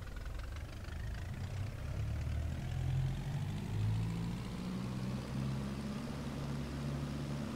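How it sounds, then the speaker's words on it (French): A DHC-1 Chipmunk's piston engine held at 1800 RPM for a run-up in X-Plane 11, a steady, droning low hum with a slight rise and fall in pitch throughout, alone with no voices. "On va faire nos essais moteurs à 1800 RPM"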